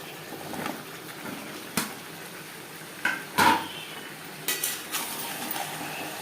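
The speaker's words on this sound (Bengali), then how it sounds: "ডাঁটা কুমড়ো বেশ ভালো করে মিক্স করে দেব।" Pumpkin and Malabar spinach stems being stirred with spices in a pan: a few sharp spatula scrapes and clinks against the metal over a low background hiss, spaced irregularly.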